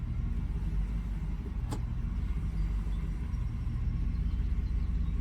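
A car engine idles in drive with locked idle timing, a low, steady rumble that holds an even level throughout, heard from inside the car with no talking.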